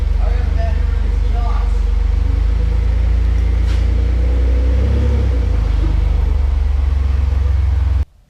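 Deep, steady exhaust rumble from a twin turbo V6 truck with a budget exhaust upgrade, loud and close, with speech over it and an abrupt cutoff at the end.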